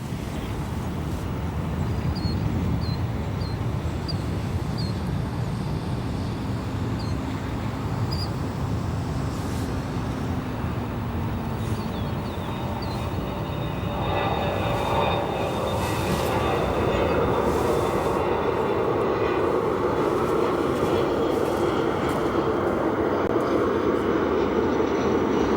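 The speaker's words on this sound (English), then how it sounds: "We have United Airlines flight 1673, a Boeing 737-900, arriving in from Cleveland." A United Airlines Boeing 737-900 arrives at O'Hare Airport, its jet engines a steady, broad roar that builds and stays loud over about twenty-five seconds, with faint distant chirps early on and no talking.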